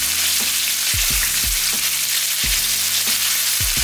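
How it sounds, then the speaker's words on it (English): Pork belly frying in its own fat in a pan over medium heat: a dense, continuous close sizzle, with occasional soft knocks from the pan underneath. "So turn your pan to medium and let this sizzle."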